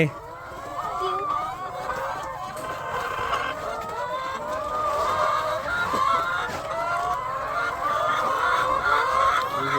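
About seventy hens in a Thai henhouse cluck and cackle continuously at evening egg collection, a busy overlapping chorus of close calls that grows a little louder as it goes on.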